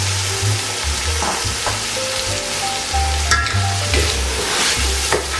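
Green peas sizzling with spices and salt in a hot pan over high flame, a steady close frying hiss with occasional stirring scrapes and spoon clinks, no talk.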